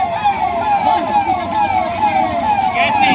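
Fire engine sirens wail at the scene of a big fire at the Mahakumbh, several rising and falling tones overlapping loudly over a steady rumble of engines and crowd noise.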